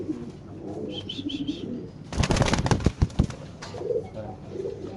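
Soft pigeon coos sound near at first on a pigeon farm, then a burst of fluttering wings and scuffling, followed by more low cooing.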